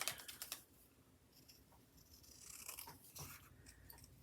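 Scissors snipping around a card of paper for a junk journal page, quiet crisp cuts in short bursts, close and faint, with no talking.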